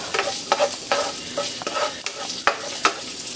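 Garlic and onion sautéing in a pan, with a steady close sizzle broken by repeated scraping stirs of the spatula at a loose, irregular rhythm, and no talking.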